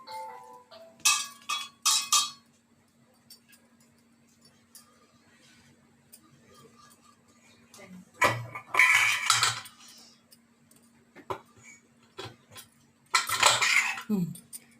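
Metal idli plates being set onto an idli steamer stand, sounding as bright metallic clinks and clatters in three separate bursts with quiet gaps between them.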